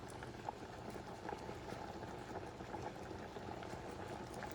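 A pot of Puerto Rican-style pigeon peas stew (gandules guisado) bubbles at a steady, constant boil, with a dense low churning simmer running throughout, no voices.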